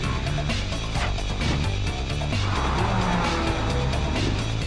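A 2006 Lamborghini Gallardo with a 520-horsepower V10 and four-wheel drive screams up toward its 8,500 rpm redline, loud and close, with a harsh, rising engine roar and brief tire squeal.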